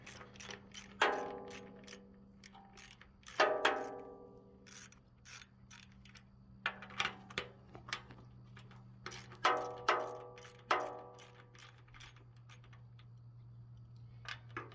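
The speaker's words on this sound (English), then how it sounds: "Just break all these bolts free." A hand ratchet clicks in quick bursts while breaking half-inch bolts free on a scrapped indirect hot water heater, with occasional strained metallic creaks over a faint steady hum.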